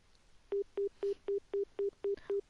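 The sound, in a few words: telephone call ringing unanswered, from the video game Nekopara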